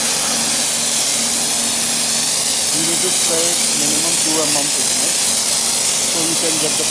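Steady hissing spray runs throughout from a spray gun applying Jotun Jota Armour epoxy coating, with faint voices murmuring underneath.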